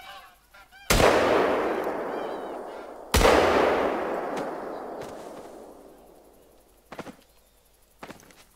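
Two loud shotgun blasts from bird hunting in theHunter: Call of the Wild, each followed by a long rolling echo that fades over a couple of seconds, with faint honking birds in the background.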